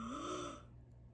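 A single soft, drawn-out yawn rises and fades into quiet, a voice imitating a sleepy ghost.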